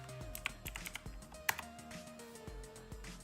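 Fingers typing on a computer keyboard into a Discord search, a quick irregular patter of close, crisp key clicks with a few sharper taps, faint overall and no voice.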